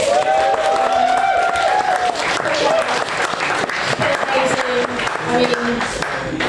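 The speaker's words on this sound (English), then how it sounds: "if we can have a massive round of applause" A crowd at a football club awards night bursts into loud, sustained applause, with many hands clapping and voices cheering and calling out over it.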